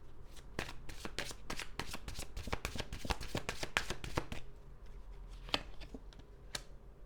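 Tarot cards riffle and slap in quick bursts of crisp shuffling close by, with brief pauses between runs.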